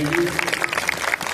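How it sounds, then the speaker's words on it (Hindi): An audience at a Bhagwat Katha gathering at a Hindu temple in Dehradun, Uttarakhand breaks into scattered, lively clapping, while a voice is briefly heard at the start. "एक बार जोरदार तालियों से इनका अभिनंदन कीजिए।"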